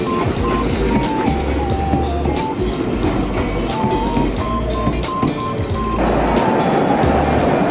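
A semi-express train rolls into a Japanese station with a steady rumble and clattering wheels, while a chiming station tone sounds intermittently; no voices.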